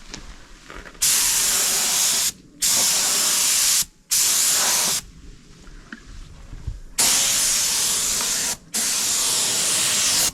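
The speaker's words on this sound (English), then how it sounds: "We got the first light coat of black on there." Bursts of spray paint hissing from a nozzle as a light coat of black Rustoleum goes onto a part, several long passes of a second or two with brief pauses between them, close and steady.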